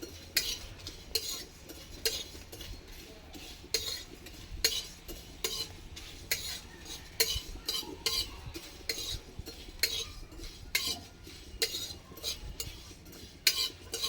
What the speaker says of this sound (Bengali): এই হামাল দিকটাতে গুঁড়ো করে নেবো এরকম নাড়তে থাকি